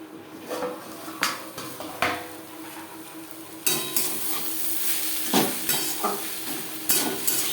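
Amaranth greens with onions being stir-fried in a pan, a steady close sizzle broken by repeated scraping clatters of a utensil against the pan, with no one talking.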